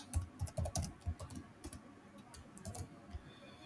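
Computer keyboard being typed on in quick bursts of clicky keystrokes with short pauses between them, close and fairly quiet with no voice.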